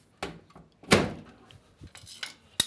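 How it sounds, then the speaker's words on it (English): Door of a fully automatic washing machine being handled and shut during a door seal repair: a few separate knocks and thunks, with one solid close near the start and a sharp click at the end, in a quiet room. "Then close the door."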